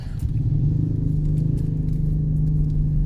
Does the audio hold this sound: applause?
no